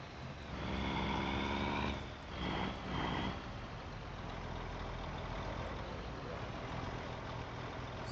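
Truck engine in the Farming Simulator 25 video game, hauling potatoes, a steady low idle and drone that swells briefly with a harsher rev, running continuously and fairly faint throughout.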